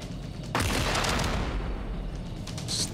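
Grenades explode in Jagged Alliance: Rage, landing as a sudden loud blast followed by a sustained roar of further detonations and gunfire-like bursts, close and dense, with no voices.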